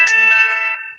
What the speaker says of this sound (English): that's my phone going off, sorry.